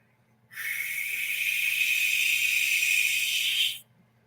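A voice imitates a lechuza owl's long screech as if heard from a distance, giving one sustained, breathy, hissing cry of about three seconds with no pauses, steady and fairly loud, with no talk over it.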